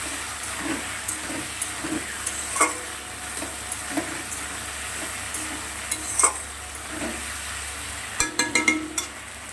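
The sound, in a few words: potatoes, onion and tomato frying in oil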